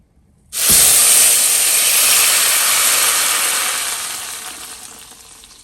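A blender whirs through tomatoes, chiles, onion, garlic, cilantro and a little water, starting abruptly with a loud broad hissing roar that holds steady, then slowly eases off.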